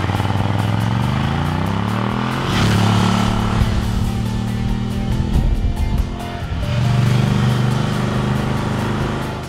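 A Ducati Scrambler Café Racer motorcycle rides along a winding road in Tuscany, its engine droning loudly and rising and falling in pitch as it shifts through gears, with a brief dip before revving up again.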